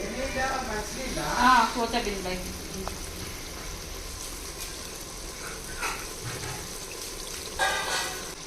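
Chicken pieces in masala sizzle in a pan with a soft, steady crackle, broken by brief stirring and scraping noises and a couple of louder splashy bursts.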